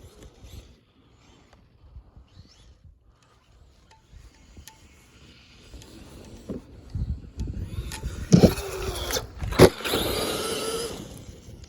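Traxxas X-Maxx RC monster truck on a ramp gets a short burst of throttle, its electric motor rising from quiet rustle to a loud whirring surge with two sharp bursts near the end as the truck self-rights.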